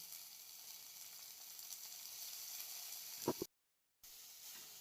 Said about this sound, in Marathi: आता ही मिरची आपल्याला छान अशी या लसणामध्ये परतून घ्यायची आहे.